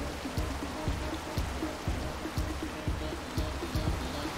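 Flowing water in the video game Rain World, a steady trickling stream with faint dripping patter, continuous and moderately loud with no voices over it.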